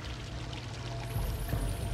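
Water pouring and flowing in the video game Vampyr, a steady broadband rush that swells louder midway as the flow strengthens, with no voices over it.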